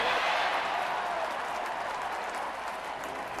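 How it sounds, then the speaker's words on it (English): Crowd at a baseball stadium during an NLCS playoff game cheers and applauds a pop-up out, a dense, loud, sustained roar of clapping and voices that fades slightly toward the end. "For a crowd who is dying to cheer about something, a pop-up from Albert Pujols will do for now"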